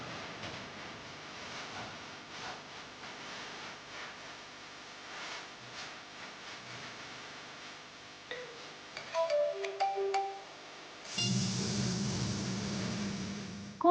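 A phone rings with an incoming call indoors, its electronic tone chirping briefly before the ringtone swells loud and steady near the end over an otherwise quiet, faint background.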